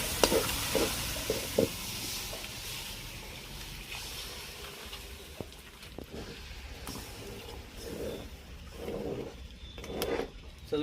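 Water poured into roasted masala curry in a pan, followed by a low continuous sizzle and repeated spoon scrapes and stirs, close-up and without talk.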